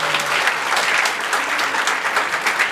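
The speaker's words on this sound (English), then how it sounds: "let's start out by giving Jen a big round of applause" Audience applause at a housing conference's opening plenary, a dense steady wash of clapping hands filling the room, loud and continuous throughout with no talk over it.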